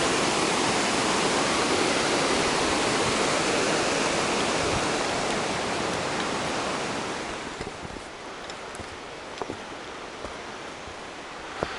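Rushing water of a mountain stream along the trail to Ramsey Cascades, a loud, steady broadband roar that eases slightly toward the end, with a few faint clicks and no talking.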